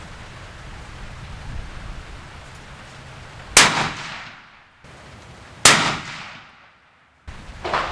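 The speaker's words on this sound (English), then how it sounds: "We'll go ahead and shoot that target and see what this final test load" Three loud, sharp rifle shots from a Thompson Center Compass II in .338 Win Mag are fired outdoors, spaced a few seconds apart, each with a short decaying echo over faint background noise.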